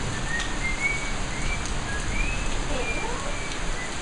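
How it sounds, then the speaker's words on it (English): Steady, dense rain hiss from a heavy thunderstorm fills the whole stretch at a constant level, with faint chirping birds high above it. "we are really distracted by this rain"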